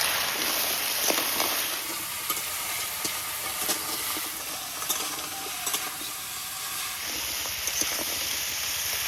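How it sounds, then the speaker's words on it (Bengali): Crab and taro stems frying in a wok, giving a steady, close, loud sizzle with faint stirring scrapes throughout and no talking. "কড়ার মধ্যে সব কিছু কিন্তু ভাজা করে একদম কমপ্লিট হয়ে গেছে।"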